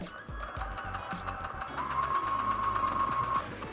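Sewing machine stitching small quilt pieces with a quarter-inch seam, a steady, close, rapid whirring run of stitches that holds for nearly four seconds with no talking.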